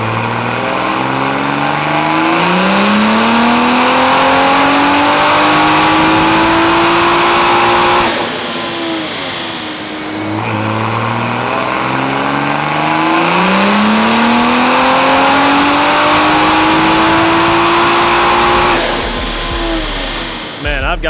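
BMW B58 engine fitted with a budget turbo kit, revving hard on a dyno in two long sweeping pulls that rise in pitch, each dropping off between runs, loud and close with fan noise underneath.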